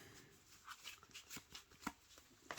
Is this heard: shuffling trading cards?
yes